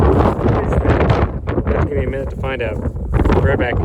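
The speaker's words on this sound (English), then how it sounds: "Sorry about the wind. I know it's really windy." Heavy wind buffeting the microphone outdoors during metal detecting, with low rumbling gusts while a person speaks close by.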